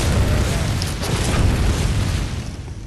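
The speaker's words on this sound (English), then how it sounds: "You just got that extra explosion after he hits you there." A heavy, rumbling explosion from the Amygdala boss's attack in the video game Bloodborne, a loud sustained low-end boom that swells and slowly fades.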